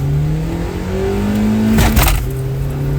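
A 2023 Tata Nexon and a Hyundai Exter accelerate hard in a drag race, their engine notes climbing together, with a louder burst as they pass close by.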